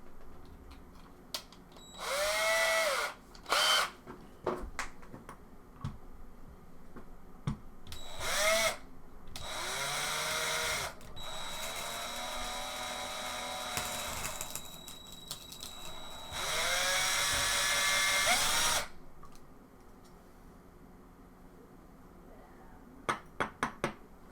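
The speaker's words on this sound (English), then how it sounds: "So we're going to drill inside" A power drill bores into the glass screen of a Droid Turbo phone in several loud, harsh bursts of varying length, broken by quiet pauses, small clicks and handling noises.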